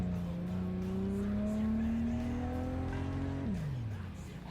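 A car driving in the video game Cyberpunk 2077, its engine drone rising steadily in pitch as it accelerates, then dropping sharply as it slows, with tire noise underneath and no speech.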